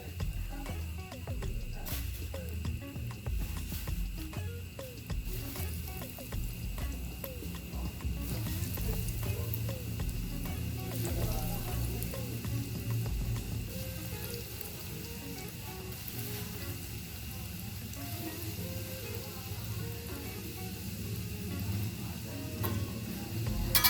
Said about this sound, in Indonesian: setelah minyaknya sudah panas, kita masukkan bola ubinya secara pelan-pelan.